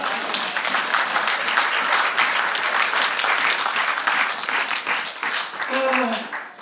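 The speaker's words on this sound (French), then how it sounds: "Est-ce qu'on peut acclamer le Seigneur?" A church congregation bursts into sustained applause and cheering in praise of the Lord, dense clapping filling the room. It carries on steadily throughout and thins near the end, where a voice rises over it.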